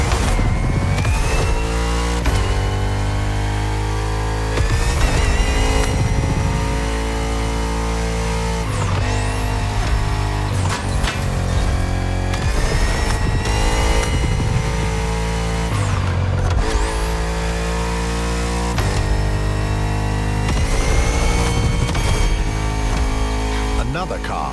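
Bugatti Vision GT racing in The Crew Motorfest, its engine revving and shifting repeatedly with sweeping pitch rises and drops, loud and continuous over a dense game soundtrack.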